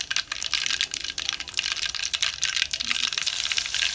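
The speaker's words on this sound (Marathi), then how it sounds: "मावरे चांगल्या अशा तडतड करायला लागल्या" Dense, rapid crackling and popping of mustard and cumin seeds in hot oil, sharp irregular snaps close by, loud and continuous throughout.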